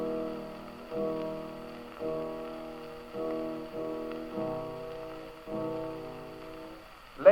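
An orchestra plays the quiet, slow main theme of the second movement of Beethoven's Seventh Symphony, sustained notes in repeated phrases, each swelling and fading about once a second. No voices.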